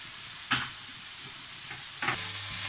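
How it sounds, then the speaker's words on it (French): Shrimp sauté with brèdes cooking in a pan, a steady sizzle with two sharp bursts as liquid hits the hot surface to deglaze, fairly quiet and close with no talking. "ça va déglacer un peu tout ce qu'il y a dans le fond là"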